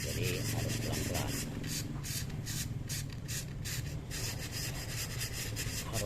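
Sandpaper rubs against a fishing rod joint in a continuous, steady scraping, close and fairly loud, running without break throughout.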